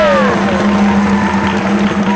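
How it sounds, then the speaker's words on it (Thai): Loud applause and cheering from students of Satri Witthaya school on a Thai TV show, a dense, continuous wash of crowd noise close up, with voices rising through it. "ที่นี่สตรีวิทยาขอเสียงปรบมือดังๆ ด้วยค่ะ"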